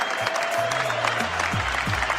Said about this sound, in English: and y'all clapping this motherfucker up.